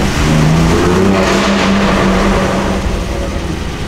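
A tuned BMW M4 Competition engine roars loudly and close by, its pitch rising and falling as it revs continuously.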